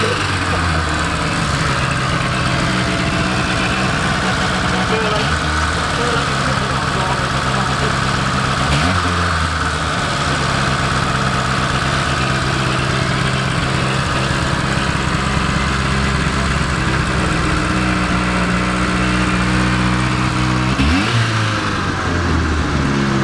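A restored Rover with a blown, barely-there exhaust idles with a steady low rumble, then revs up and settles back several times, loud and close.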